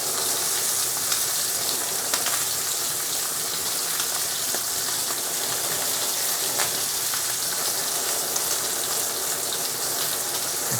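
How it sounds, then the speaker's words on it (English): Pork chops searing in a pan for a Chinese-style baked pork chop dish, giving a dense, steady hiss and sizzle that runs unbroken and fairly loud, with small crackles and no talking. "to make sure we get a good colour on these pork chops"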